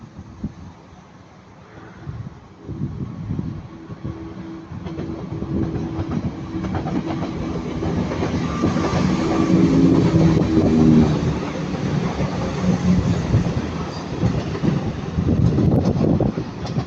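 East Midlands class 170 passenger train passing at Heaton Norris, a rising rumble with clickety-clack of wheels over rail joints that builds to a loud, sustained roar, with some wind noise on the microphone.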